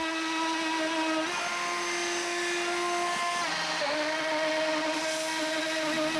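A DIY CNC mill slots aluminum with a carbide insert cutter, giving a loud, steady high-pitched whine with layered harmonics that shifts pitch slightly a few times as the cut continues, with no talk.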